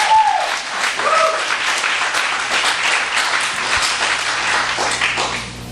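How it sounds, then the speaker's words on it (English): Loud, sustained applause from a large audience, dense clapping that continues evenly for several seconds. "Yeah, you can clap, come on."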